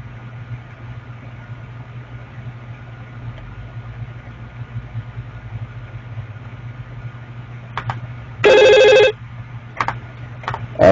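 A telephone bell rings in one short, loud burst near the end, with faint clicks around it, over a steady low hum that runs throughout.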